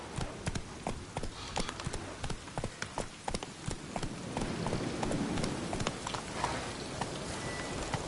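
A horse gallops in The Witcher 3, rhythmic hoofbeats thudding in quick regular clusters, fairly close, over a soft background wash that thickens toward the end.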